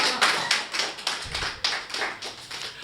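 An audience claps for a poet at a Hindi kavi sammelan, a short burst of close, steady rhythmic applause with no voices over it.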